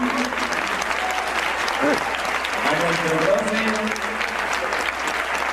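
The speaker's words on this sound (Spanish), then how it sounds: "ahora quiero por favor que le brindemos un fuerte aplauso a Fran" A crowd gives sustained, dense applause for a dance teacher at a gathering, a steady wash of clapping while a person speaks over it.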